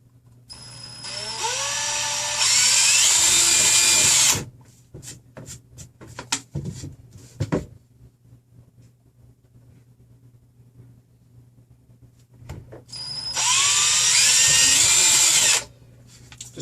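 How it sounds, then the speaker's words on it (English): A power drill revs up and bores into an MDF 3D-printer bed board for a couple of seconds, then stops; after a lull of taps and clatter, it drills again. "if you're going to be using a regular power drill, you can go ahead and do that right now"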